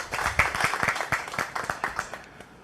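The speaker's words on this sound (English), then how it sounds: "can we get a round of applause for Ms." A small audience at a Caribbean youth internet governance forum applauds a speaker, brief scattered clapping that peaks early and thins out toward the end.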